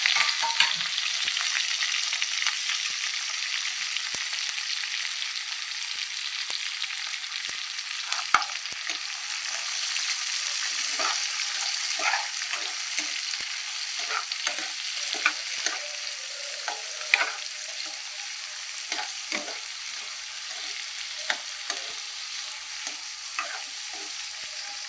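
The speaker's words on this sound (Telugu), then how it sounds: "ఇవి బాగా ఫ్రై అయిన తర్వాత ఉల్లిపాయలు, పచ్చిమిర్చి, క్యారెట్, బీన్స్ ఇవన్నీ వేసేసుకోవాలండి." Onions, green chilies, carrots and beans for vegetable pulao sizzle and fry steadily in a pan, with crisp crackling pops and occasional stirring scrapes throughout, close and continuous with no talk.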